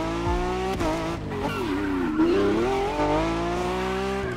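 A Lamborghini Revuelto in The Crew Motorfest slides out under throttle: the engine note wavers as a tire squeal rises and fades across a few seconds, loud and close.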